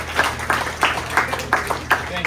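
An audience at a mascot reveal event for South Mountain Aviation claps in a round of applause, loud, close rhythmic bursts of hand claps repeating evenly throughout.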